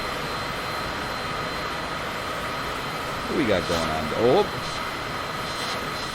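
The aircraft engine in Microsoft Flight Simulator drones as a steady, even roar throughout, while someone speaks briefly over it midway.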